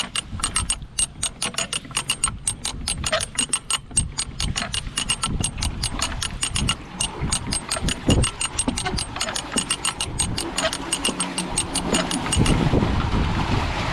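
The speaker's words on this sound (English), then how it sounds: "Let's finish opening the paddle. I always take the windlass off just in case that ratchet fails." A windlass ratchet winds open a canal lock paddle, its pawl clicking in a fast, steady run of sharp, close ticks that continues for most of the stretch before giving way to rushing water.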